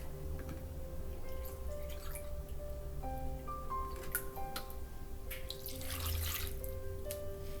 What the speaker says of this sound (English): I'm going to add 1/2 cup of milk